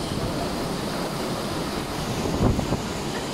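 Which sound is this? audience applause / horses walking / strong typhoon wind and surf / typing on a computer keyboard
strong typhoon wind and surf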